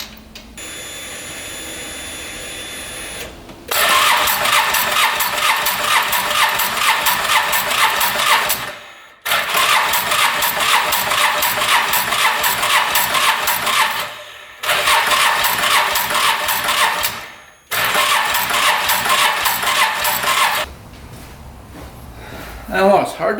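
A UTV engine cranks and runs in three long, loud bursts of steady buzzing, each stopping abruptly with a brief silence between. A faint steady hum precedes the first start, and no one speaks.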